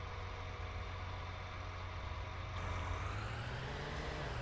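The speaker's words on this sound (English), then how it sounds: "these John Deere's, man, it's some smooth, slick tractor" A John Deere tractor engine in Farming Simulator 19 runs with a steady, dense drone that rises slightly in pitch partway through, loud and constant with no talk.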